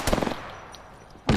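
Bursts of automatic gunfire in the Apex Legends video game, a rapid rattling volley at the start and another sharp burst at the end, with quieter ambient game noise between.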